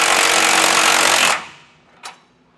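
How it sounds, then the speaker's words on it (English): An impact wrench tightens and torques the hardware on a Roadmaster rear anti-sway bar on a 2020 Coachmen RV. It rattles loud and steady for over a second, then cuts off, followed by one short clank. "So we'll come back and tighten and torque all of this hardware."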